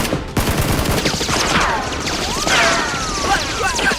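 Gunfire during a staged Nerf war chase with motorbikes, a rapid burst of sharp shots at the start followed by whizzing, swooping sound effects and scattered cracks, loud and close.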